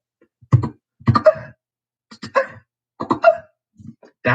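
A beatboxer makes a high-pitched vocalized cough snare, a voice imitating a snare drum: about five short, sharp throaty bursts, some doubled, spaced roughly half a second to a second apart, close and fairly loud with silence between them.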